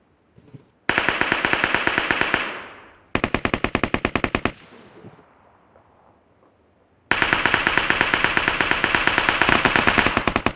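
Rapid automatic gunfire from PUBG Mobile on a phone, three loud sustained bursts separated by a quieter gap, each burst a dense rattle of close shots.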